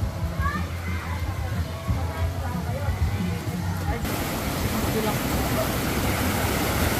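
Steady, loud rushing roar of a waterfall at Talon Falls in Calauan, Laguna, filling the whole scene with constant noise while people talk over it.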